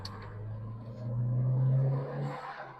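A Volkswagen Golf Mk2 GTI engine heard from inside the cabin, revving up into a strong steady drone that swells and then eases off on a back road.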